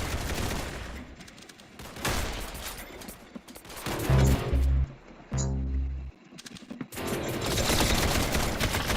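Sniper rifle gunfire in a video game sounds as sharp, loud bursts of shots among dense game noise, with a heavier cluster of booming reports near the middle.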